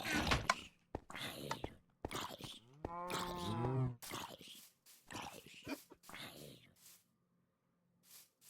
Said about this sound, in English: Blue cows.